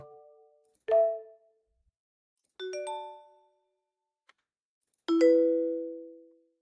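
Notification sound effect chimes, three separate bright tonal pings spaced a couple of seconds apart, each ringing out and decaying, heard alone with no talk.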